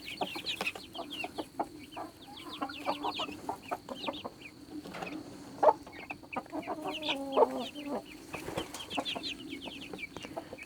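Young chicks in a coop cheeping in a busy, overlapping chorus of high peeps mixed with soft clucks, close and continuous, with scattered rustles and taps.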